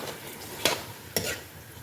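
Capsicum and cabbage get mixed into a pasta sauce frying in a pan, with a soft steady sizzle and two quick scraping strokes from the spoon, close by and without talk.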